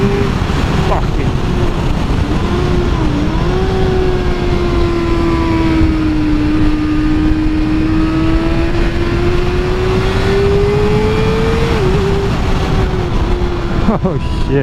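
A Kawasaki ZX6R sport motorcycle accelerates hard. Its engine note holds a loud, close, sustained tone that wavers and climbs slightly, with heavy wind rumble throughout.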